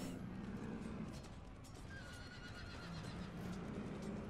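Horses neigh and whinny amid galloping hooves in a cavalry battle in the PC strategy game Empire: Total War, a dense continuous battle din with repeated whinnies over a steady roar.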